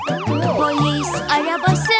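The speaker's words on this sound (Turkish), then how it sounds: "Polis arabası burada, nani nani." A police car siren wails over and over in a children's song, with loud, rapid rising and falling sweeps repeating about every half second alongside music, and no speech.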